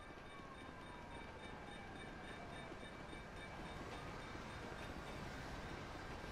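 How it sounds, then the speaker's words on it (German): A train in GTA V Online rolls past with a steady, dense rumble and rattle, and a faint high whine rides on top. The noise stays constant for several seconds with no voices. "Jetzt kommt ein scheiß Zug, ernsthaft!"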